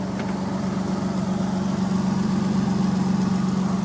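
A 1996 Dodge Dakota engine idles steadily just after a cold start, a close, even low rumble with a regular throbbing pulse and no voices over it.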